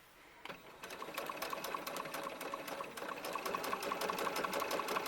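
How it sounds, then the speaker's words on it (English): A sewing machine top stitches the band on a small shirt for a ball-jointed doll, running in a steady, even whir with a regular ticking rhythm that begins after a brief pause and continues throughout. "So I'm just top stitching that band."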